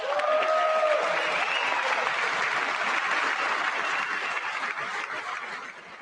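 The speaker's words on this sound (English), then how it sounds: "I wasn't sure if anybody even on this side was going to applaud for that." Loud, sustained applause fills a large hall at the State of the Union, a dense wash of clapping that continues steadily and fades slightly at the end.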